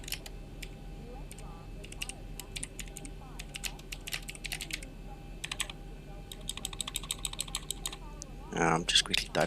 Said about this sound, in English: I'm just quickly typing a message to a user here.